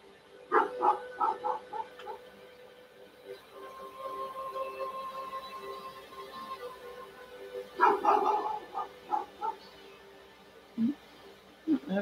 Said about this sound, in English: You can hear that. That's my dog.